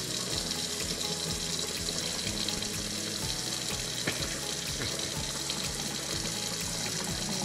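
Water draining from rinsed rice into a sink, a steady running, splashing flow heard close and continuous throughout.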